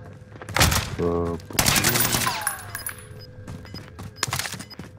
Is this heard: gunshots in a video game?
yes